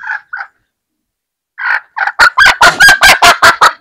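Loud, close calls from an eight-year-old hen: a few short squawks, a pause, then a rapid run of harsh, honking clucks in quick succession.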